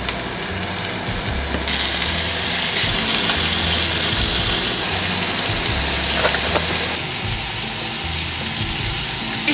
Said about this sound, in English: Now as salmon is heated up